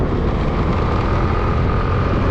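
A Suzuki Address V125 S scooter rides along a road, its engine a steady close drone with broad wind and road rush filling the whole stretch, no talk.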